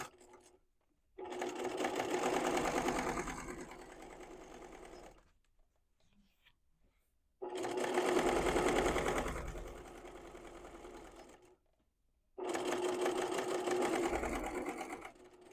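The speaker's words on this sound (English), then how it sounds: "I'm going to baste the rest of the circle together at 1/8 of an inch" A sewing machine basting the layered fabric circle of a beginner fanny pack at an eighth-inch seam, running in three sustained stitching bursts separated by short pauses, close and clear with no talk.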